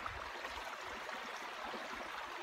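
A brook on the Fundy Footpath where hikers refill water, flowing in a steady, soft, continuous rush, faint and unbroken, with no voices.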